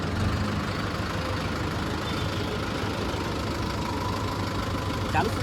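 A tractor's diesel engine rumbles continuously at idle, close by in a market in Bayad, Gujarat, with a constant even drone throughout.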